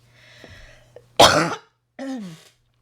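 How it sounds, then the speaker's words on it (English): A single harsh cough, irritated by wildfire smoke, bursts out loudly after a quiet stretch, followed by a short rough throat-clearing sound. "Sorry, we've had wildfire smoke here, so I have quite a cough."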